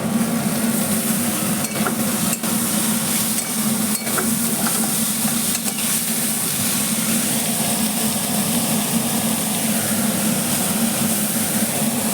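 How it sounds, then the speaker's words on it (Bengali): Chopped banana flower frying in a pan makes a steady, fairly loud sizzle and hiss for the whole stretch, with a low constant hum underneath and a few faint clicks. "ভেজে নেবো মোটাটা আগে"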